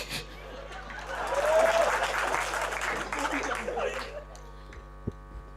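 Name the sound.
audience applause at a Hindi comedy poetry event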